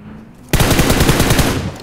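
Rapid automatic gunfire in the mobile battle royale game PUBG Mobile, a sudden loud burst of evenly spaced shots that starts after a faint quiet lead-in and keeps firing steadily to the end.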